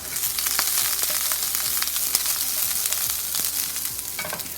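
Broccoli fries in a dash of olive oil for a budget dinner, giving a close, continuous loud sizzle with scattered pops and crackles and a faint low hum underneath, with no voices.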